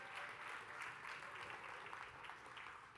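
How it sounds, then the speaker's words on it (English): An audience of realtors at a real estate conference claps together, a faint, distant, continuous patter of applause that stays even throughout. "So everybody give yourselves a big round of applause."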